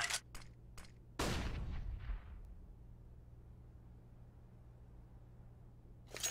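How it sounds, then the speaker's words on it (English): A flashbang grenade detonates in a shooter video game with a loud, sharp burst that rings and decays over about a second. A few quick gunshot-like cracks come before it, another follows near the end, and quiet background hum fills the gaps. "Flashbang."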